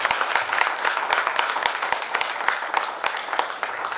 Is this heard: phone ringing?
no